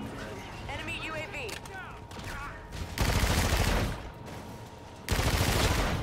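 In Infinite Warfare, heavy automatic gunfire rips out in two loud, dense bursts of rapid shots, preceded by quieter in-game chatter and voice effects. Gaps of lighter noise separate the bursts.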